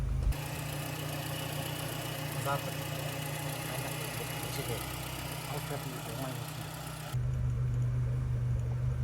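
Car engine idling steadily with a low hum and slight roughness, then a shift in tone near the end as the revs drop; a steady mechanical drone close by.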